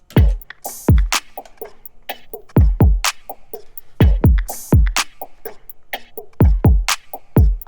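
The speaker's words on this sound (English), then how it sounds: "So now all the drums together by themselves sound like this." A trap-style drum loop with booming low kicks, crisp snaps and rapid ticking hi-hats repeating in a steady syncopated groove.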